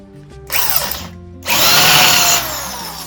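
A hammer drill on drill setting, not hammer, whirs up close while installing a step railing, with a brief run, a pause, then a longer, louder burst as it bites in, slowing at the end.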